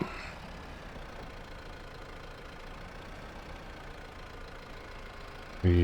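An old farm tractor engine idling steadily with a low rough chug, moderately quiet and continuous, followed by a sudden loud knock at the very end.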